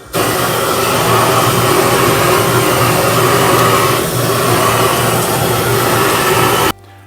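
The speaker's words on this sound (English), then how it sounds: "I'm gonna be using my grill gun to light my B&B charcoal" A propane grill gun torch roars steadily as it lights B&B charcoal, a loud constant blowtorch whoosh starting abruptly, dipping briefly midway and cutting off sharply just before the end.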